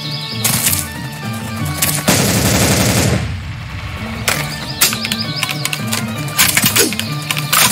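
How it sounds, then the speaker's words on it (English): An automatic rifle in the audio game Blood Shed fires long, loud, rapid bursts of close gunfire, a sustained rattling volley broken by short gaps and single cracks, with mechanical clicks in between. "Automatic rifle."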